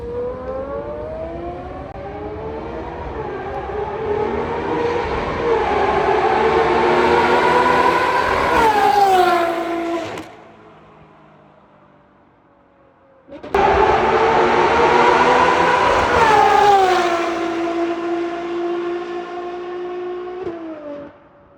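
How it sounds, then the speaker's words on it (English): Blue Ferrari 812 GTS passing on a Dubai street: two loud, high-revving engine passes whose pitch climbs steadily and then drops, with a short quieter lull between them. "Can't wait for the flyby of that blue Ferrari 812 GTS. It's gonna sound mega"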